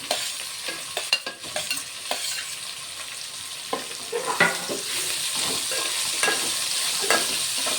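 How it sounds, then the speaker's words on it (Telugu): Broad bean pieces and brinjal frying in a pan while being stirred, a close, continuous sizzle punctuated by irregular spatula scrapes and clinks, with no voices. "ఇప్పుడైతే చిక్కుడుకాయ ముక్కలు కూడా వేసుకుంటున్నా, అలాగే వంకాయలు కూడా వేసుకున్నా."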